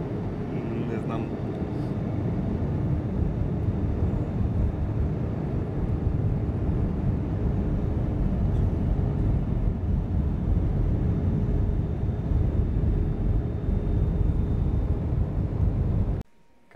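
Steady, loud airplane cabin roar during descent with the nose pointed down, a dense low rumble and broadband hiss continuing unbroken before cutting off abruptly at the end.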